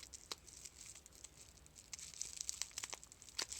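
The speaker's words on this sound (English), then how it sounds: "Okay, I might have to cut this one out." Scissors cut out a small sticker label nearby, giving quiet, irregular crinkling and snipping with a few sharper clicks near the end. No one talks.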